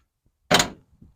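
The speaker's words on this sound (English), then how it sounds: "Don't those doors shut nice?" Doors on a Ford F100 unibody truck shut one after another: a loud, solid thunk followed by a decaying rattle, then two fainter, smaller knocks closing out the moment.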